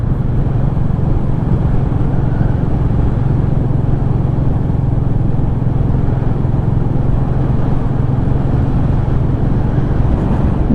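Royal Enfield Meteor 350 motorcycle riding along a road on a sunny day, a steady, loud engine drone with low rumble and constant wind and road noise throughout, no talking.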